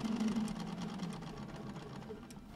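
Sewing machine stitching down the edges of a Kawandi quilt, a steady continuous motor hum with a rapid needle rhythm running throughout, close and moderately loud with no talk.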